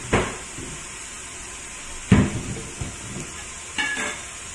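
Chopped vegetables sauté in a pot for lentil soup, a steady sizzle broken by three scraping stirs of a spoon against the pot, close by and with no talking.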